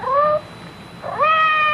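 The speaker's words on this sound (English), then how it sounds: "It sounded like Madame's cat, Francois." A housecat meows twice in a radio mystery drama, one short cry followed after a pause by a longer, clear meow, close and alone with no talk.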